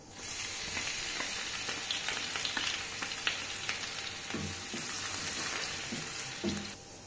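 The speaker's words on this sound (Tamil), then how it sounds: "எண்ணெய் சூடாயிட்டு அதில் ஒரு பட்டை, கிராம்பு, ஏலக்காய், பிரிஞ்சி எல்லாம் சேர்த்துக்கிடுங்க" Whole spices such as cinnamon, cloves, cardamom and bay leaf fry in hot oil for a restaurant-style mushroom masala, giving a steady crackling sizzle with scattered pops and small stirring clatters.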